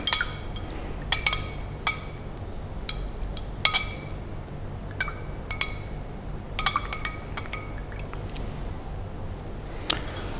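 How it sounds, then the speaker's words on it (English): Glass stirring rod tapping and clinking against a glass beaker while potassium hydrogen phthalate dissolves, bright irregular tinkles scattered over a low steady hum, close and clear, with no talking. "we do need to stir just a few seconds longer"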